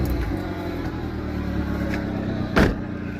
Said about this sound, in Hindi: इसी के साथ गाड़ी को स्टार्ट करते हैं।